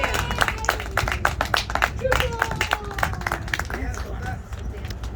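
A circus audience claps and cheers in a lively burst of applause, with voices shouting over the rapid, uneven clapping.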